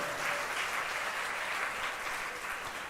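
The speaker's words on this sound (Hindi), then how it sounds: "एक बार तालियां फिर नहीं बजा दोगे आप?" Seated audience at a Hindi religious discourse claps together again on request, a continuous even roar of many hands, steady and fairly close without any talking.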